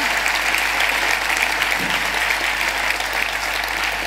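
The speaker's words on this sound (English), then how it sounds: "So I think Roisin deserves a round of applause for that." Steady, full applause from an audience at a talk on the role of media, loud and continuous from start to finish with a low hum beneath.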